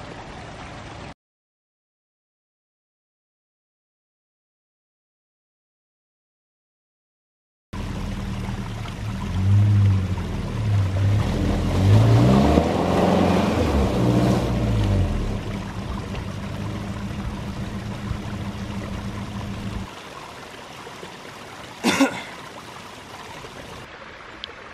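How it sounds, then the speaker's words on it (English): A loaded pickup truck drives through a creek and gets stuck, a steady low engine drone mixed with rushing, splashing water after a short silence, then quieter running water and one sharp knock. "I got my truck stuck in the creek."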